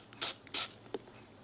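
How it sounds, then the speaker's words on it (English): Vanish stain remover is sprayed onto a pillow in two quick, close hissing bursts from a trigger bottle, followed by a small click. "So first of all, I like to spray it with a bit of Vanish."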